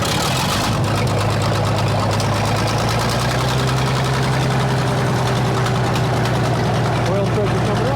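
A Minneapolis Moline 605 engine turns over and settles into a steady, low, rumbling idle that runs close and continuous for the whole stretch, with no words spoken over it.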